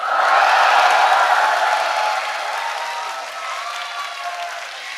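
A church congregation at a festival service roars with shouts and cheers alongside applause, loud at first and then tapering into a sustained, softer crowd din over five seconds.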